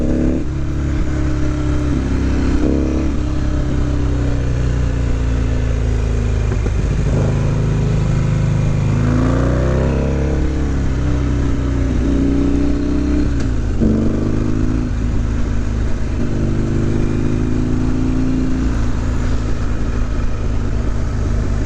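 A small motorcycle fitted with D&D exhaust pipes runs steadily and fairly loud throughout, its engine note rising and falling through several rev changes and shifts, with no talking.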